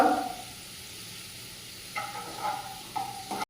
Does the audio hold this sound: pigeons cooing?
no